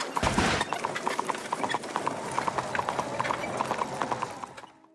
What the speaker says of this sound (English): One of these cosmetics is the horsepower engine sound,